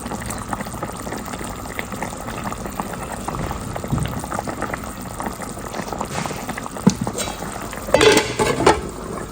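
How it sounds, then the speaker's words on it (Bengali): Coral fish and onions bubble and sizzle softly in a pan, a low continuous cooking hiss with occasional utensil clinks and scraping growing louder near the end. "কোরাল মাছটাকে পেঁয়াজ দিয়ে ভুনা করতেছি"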